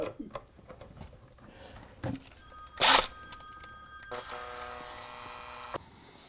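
A telephone rings in a model railway room with a sustained electronic ring tone for over a second, plus brief bursts and clatter before it. No talking over it.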